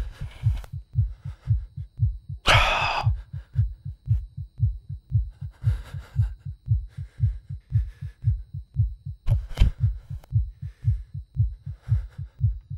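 A rapid, steady heartbeat sound effect in the horror video game Infliction thumps loudly and evenly throughout, with brief bursts of other game noise layered over it.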